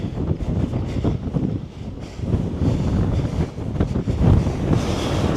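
Gusty wind buffets the microphone near a dam, a loud low rumbling roar that surges and eases throughout without a break.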